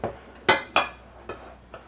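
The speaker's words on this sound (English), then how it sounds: "so just mix my dry ingredients" Dry pancake ingredients being mixed in a bowl, five sharp clinking strikes of a utensil against the bowl at uneven intervals, close and fairly clear with quiet gaps between.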